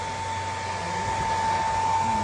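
A hair dryer blows continuously while straightening hair after a bond repair treatment, a steady, loud whooshing roar with a constant whine and no speech.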